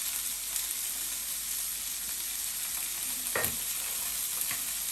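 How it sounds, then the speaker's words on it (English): Carrots, beans and peas frying in a pan with curry leaves for rava upma, a steady close sizzle with a few scraping stirs of a spoon against the pan. "Give it a good mix and let it cook for a couple of minutes."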